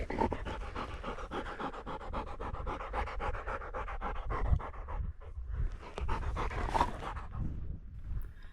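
Chip, a bird dog out hunting chukar and Hungarian partridge, pants rapidly and steadily close by, with fast rhythmic breaths running throughout and occasional rustling.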